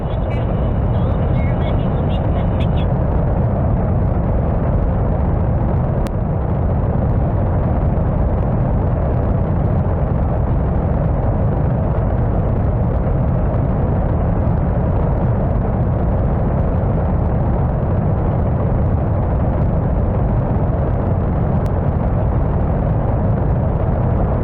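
A steady, loud roar of a rocket engine firing in a space flight game, a dense continuous rumble that holds unbroken from start to finish.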